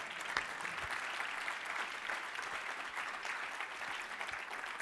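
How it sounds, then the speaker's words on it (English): A keynote audience claps, a dense, even patter of applause from a crowd held at moderate level with a few sharper claps standing out, no voices on top. "So that's sort of where we clap"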